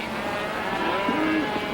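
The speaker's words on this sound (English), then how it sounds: "I told you, rawhiders, that was Priest's cattle" Cattle low in a 1952 Western ranch setting, a couple of drawn-out moos rising over a steady outdoor background, moderately close and with no talk.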